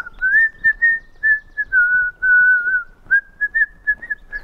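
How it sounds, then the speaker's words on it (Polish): A person whistles a lilting tune in clear, loud sustained phrases broken by short pauses, close by and with no other sounds. "Gwizdał sobie idąc po lesie."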